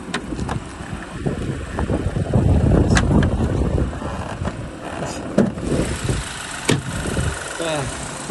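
A Hyundai Grandeur / Kia K7 engine idles with the hood open, a steady low rumble heard close up. Occasional clicks and knocks sound over it, and someone talks over the engine.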